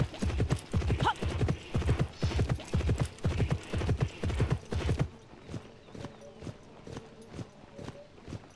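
Horse hooves clip-clop in the video game Horsez: a loud, quick rhythmic gallop for about five seconds, then a quieter, slower walking beat continues.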